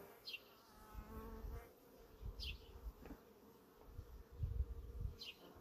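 Honeybees buzzing loudly around an open hive during an inspection after a second brood box was added, a continuous low hum with individual bees passing close by, no talking.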